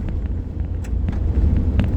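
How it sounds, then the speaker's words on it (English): Car rolling along a gravel road, a steady low rumble of tyres and engine with scattered faint knocks and rattles from a loosely mounted camera, continuous for two seconds with no talk. "this gravel road's knocking the camera around a bit"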